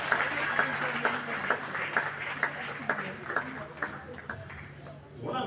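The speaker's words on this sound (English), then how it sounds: "Please, a huge round of applause." A crowd at a youth summit in an arena claps steadily, with sharp, regularly spaced claps standing out over a dense background of hands and murmur before it fades near the end.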